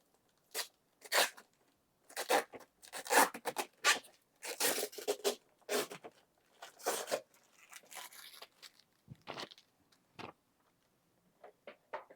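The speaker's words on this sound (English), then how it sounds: "Love peeling the plastic off." Protective plastic film is peeled off a 1:14 scale 1992 Mitsubishi Pajero RC toy car, giving a run of quiet, close crackling tears and pulls in short bursts with brief pauses between them.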